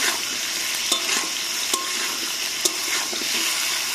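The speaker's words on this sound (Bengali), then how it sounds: "আলুটা আরেকটু ভাজবো বাদামি কালারে করে" Potatoes fry in oil over an outdoor wood-fire stove, giving a continuous hissing sizzle with a few sharp crackles and spoon taps, and no voices.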